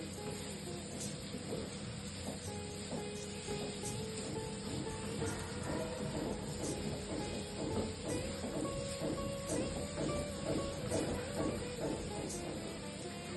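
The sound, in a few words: onions frying and being stirred in a pan with potatoes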